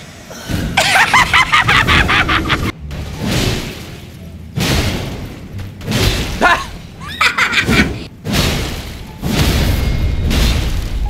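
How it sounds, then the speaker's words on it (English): A plunge attack lands in Elden Ring, its heavy thudding impacts and crashing bursts coming in several loud chunks separated by brief silences, with a harsh, shattering edge. "Plunge attack."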